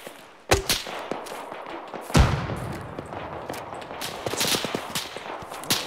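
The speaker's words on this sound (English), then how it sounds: "Three is taking autocannon fire" Autocannon and small-arms gunfire in the video game Arma, with sharp loud bursts and rapid clustered shots, two heavy impacts standing out among a continuous crackle of distant fire.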